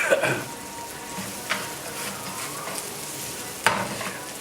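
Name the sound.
onions browning and sizzling in a pan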